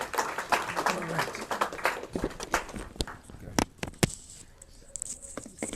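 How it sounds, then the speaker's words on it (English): A live audience at a board chairman's event claps to welcome an elder Christian pastor to the stage, scattered bursts of applause rising and thinning out over several seconds alongside crowd murmur. "Give him a round of applause as I give him."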